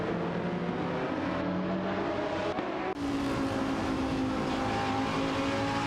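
Nissan 350Z GT300 and Cupra GT race cars battling in a racing video game, their engines a sustained mid-level whine with pitch shifts as gears change, and no voices.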